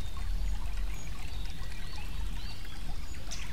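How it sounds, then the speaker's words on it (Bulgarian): Running water from a nearby forest stream, a continuous soft rushing and trickling with occasional faint bird chirps, steady and unbroken with no voices. "чувате шум от вода"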